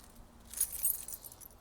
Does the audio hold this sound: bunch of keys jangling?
yes